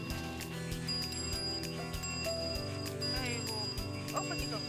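A cow bell clanks in repeated metallic strikes at a loose, regular rhythm, fairly close, over a continuous tonal background with faint voices.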